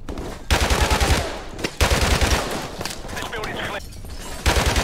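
Heavy automatic gunfire in Modern Warfare Remastered is aimed at a staircase, coming as loud, close sustained bursts with a few short breaks, while a voice talks over parts of it.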